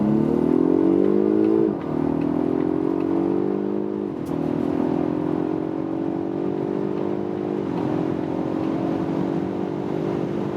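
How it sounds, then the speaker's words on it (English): A Polestar 1 hybrid car with 1000 Nm of torque accelerates hard from a rolling start at 30 km/h, its loud engine rising steadily in pitch through several gear shifts, heard from inside the cabin with no talking. "we do a flying start from 30 kilometers an hour, and guys, wait for that"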